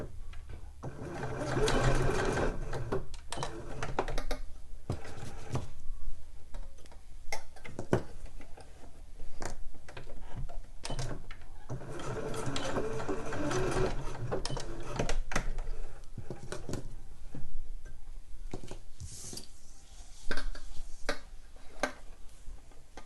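A sewing machine stitches fabric for handmade slipper boots in short, rapid bursts separated by brief pauses, its needle ticking close and clear with no talking.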